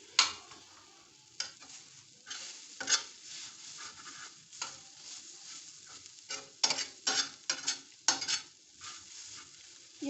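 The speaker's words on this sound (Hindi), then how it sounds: "ये प्याज हमारा सॉफ्ट हो चुका है और ये टमाटर भी सारे मिक्स हो चुके हैं" Softened onions and mixed tomatoes cook slowly on a tawa over low heat, giving a soft sizzle under repeated stirring and scraping strokes, close and fairly quiet with no voices.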